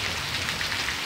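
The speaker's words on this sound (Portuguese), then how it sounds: "mais intensa a chuva, mas deu uma diminuída, mas ainda continua forte ainda" Heavy rain pours steadily onto the Orós reservoir, a dense, loud, even hiss of drops hitting water with no gaps.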